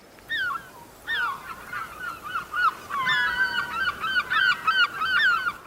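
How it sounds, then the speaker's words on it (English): Seagulls call repeatedly by the sea, harsh honking cries in overlapping bursts, fairly close and loud with no talking. "Seagulls eat the picnic."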